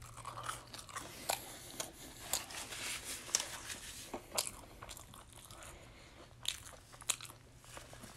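Biting and chewing a Burger King Whopper Jr. burger, close and intimate, with repeated moist crunchy bites and steady chewing in irregular bursts, no talking.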